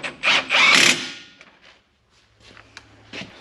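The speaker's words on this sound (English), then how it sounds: "Then we're going to go back to our 24 millimeter and run these caliper bolts down," A ratchet with a 24 millimeter socket runs down front brake caliper bolts on a Ram 2500 during a wheel bearing replacement: a loud, close whirring burst lasting under a second, followed by faint scattered clicks and clunks.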